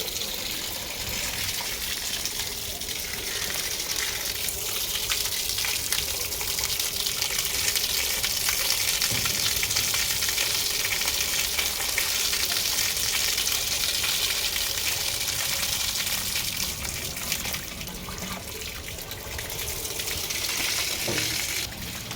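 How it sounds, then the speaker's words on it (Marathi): Water flushes out of a USF 1000 rainwater harvesting filter in a loud, continuous gush that holds steady for over twenty seconds, easing slightly before surging again near the end. "जोपर्यंत स्वच्छ पाणी येत नाही तोपर्यंत हे फिल्टर त्याचं पाणी सोडावं लागेल."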